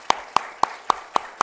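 Church members at a Wednesday prayer meeting clap to encourage the youth group, heard as six sharp, evenly spaced claps in a steady beat, close and distinct over a quiet room.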